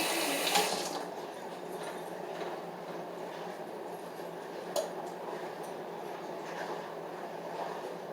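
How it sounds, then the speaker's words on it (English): Tap water streams steadily into a kitchen sink during handwashing, a soft continuous rushing hiss with small splashes and a faint clunk, quiet and without talk. "Washing my hands."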